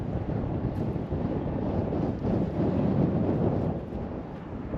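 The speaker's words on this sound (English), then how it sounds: "as you can hear the wind, it's crazy up here" Strong wind on a high lookout in the Flinders Ranges buffets the microphone in a constant low roar, rising and falling slightly in gusts, with no voices.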